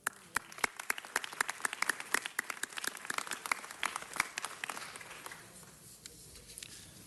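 An audience at a city council meeting claps for staff, friends and family: a sparse, crisp patter of individual claps that thins out and fades toward the end.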